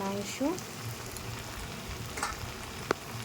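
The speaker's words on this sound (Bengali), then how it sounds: "মাংসটা দিয়ে কষে নেব।" Marinated mutton frying in an oil-separated spice paste for a mutton and potato dish, giving a low, steady sizzle with a few soft clinks and one brief sharp knock near the end.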